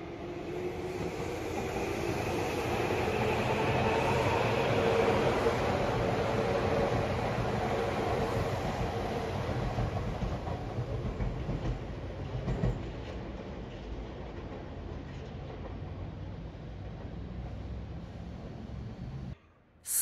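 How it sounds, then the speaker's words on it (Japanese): A local commuter train on the Tokyu Oimachi Line, running through to the Den-en-toshi Line, rumbles steadily as it departs a station, a broad continuous rolling roar that slowly eases, then cuts off abruptly near the end. "ちょうど田園都市線直通の各駅停車の列車が来たので、発車から動きを見てみたいと思います。"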